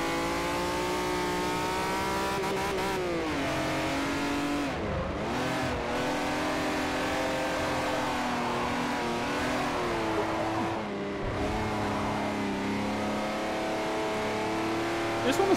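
In Forza Motorsport 4, a race car engine revs high and climbs through gears, dipping sharply twice as it shifts or slides, with light tire squeal and a player talking over the sustained roar.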